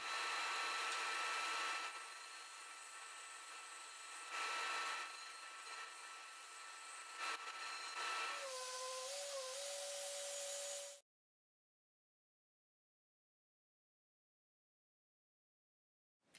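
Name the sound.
sawing wood for wooden owl project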